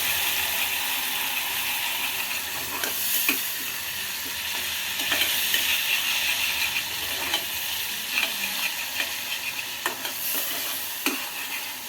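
Masala sizzles steadily in hot oil for a white pea curry while a spoon scrapes and stirs the pan, giving a continuous close fry with regular clinking strokes and no talk.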